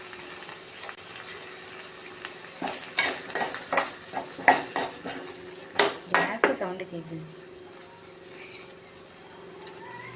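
Turkey berries and dried red chillies being sautéed in a pan, with a cluster of sharp metallic spatula clinks and scrapes in the middle over a faint sizzle that fades to quiet frying toward the end.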